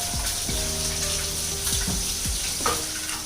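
Cumin and onion hit hot oil, giving a sharp sizzle with crackling pops and a few stirring clinks, close and continuous, without talk.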